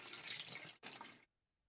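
Running water rinses in a sink or tank, a steady close hiss for about a second, a brief break, then another shorter rush before stopping to silence.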